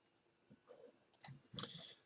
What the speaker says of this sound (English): and I'm going to click the Finish button.